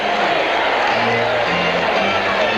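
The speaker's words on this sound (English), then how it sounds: "as we look at a standing applause for Don Mattingly" Baseball stadium crowd roaring in a sustained standing ovation for Don Mattingly, a broad, steady wash of cheering and clapping with no clear breaks.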